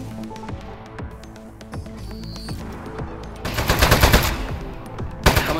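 Rapid bursts of gunfire in the video game Aperture Desk Job, played on a Steam Deck OLED, crack out as a string of sharp shots, building to a dense, louder volley near the end.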